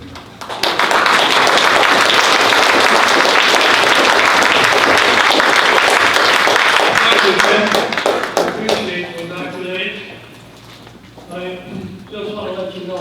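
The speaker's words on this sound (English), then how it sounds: "let's have a round of applause for Ted Anderson" Loud, sustained applause from a large crowd at a retirement party in the LA Taiwan Center fills most of the clip, then fades as a voice begins speaking over the last few seconds.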